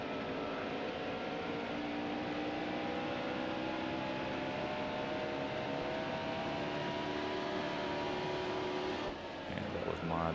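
Race car engine in NASCAR Heat Evolution at Richmond, a steady loud droning roar that holds constant through the whole stretch with a slight shift near the end, with a voice talking faintly under it.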